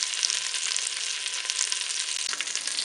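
White sausages (boudins blancs) brown in a Cookeo multicooker pot with a dense, even, close-up sizzle that holds steady throughout, with no voices.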